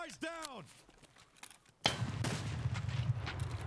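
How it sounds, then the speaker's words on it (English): Gunfire in Escape from Tarkov arrives as sharp shots from a distance, followed by a burst of noisy rattling activity, with a player talking over it. "We can hear the shooting from over there."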